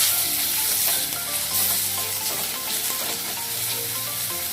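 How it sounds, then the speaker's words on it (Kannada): Chopped onion and stuffed-mushroom filling fry in a pan until golden, giving a steady, close, broadband sizzle that holds evenly throughout with no talking. "ಇದು ಫುಲ್ಲು ಗೋಲ್ಡನ್ ಫ್ರೈ ಆಗಬೇಕು"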